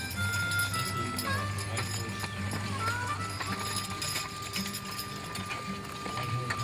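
Draft horses pull a white horse hydraulic plow at a draft animal power event, their hooves clip-clopping steadily and close by over a continuous rumble of machinery and crowd noise.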